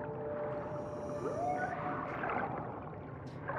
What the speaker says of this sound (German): Oh, einfach mal ein Wal.